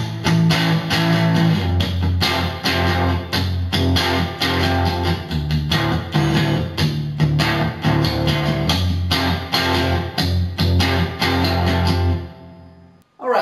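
Electric guitar chugs a palm-muted riff from a song, dense and continuous with a steady pulse of muted low-string hits, loud and alone until a brief cut-off near the end.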